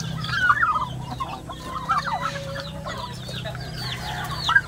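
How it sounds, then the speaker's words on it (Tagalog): Turkeys cluck and chirp in a farmyard, a string of short calls spread irregularly over a low steady background rumble, fairly close. "So ito yung pabo."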